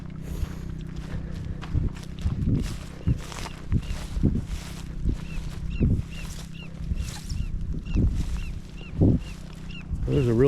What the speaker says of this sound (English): There's a really pissed off bird.